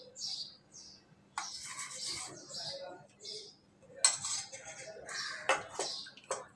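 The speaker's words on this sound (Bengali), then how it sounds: "টক দইটা দিয়ে আমি মিশিয়ে নিচ্ছি এভাবে ভালো করে মিশিয়ে নিতে হবে।" A spoon stirs sour yogurt into milk in a bowl for Bengali mishti doi, giving intermittent scraping swishes and light clinks in uneven bursts, fairly faint, with some chirpy background sounds.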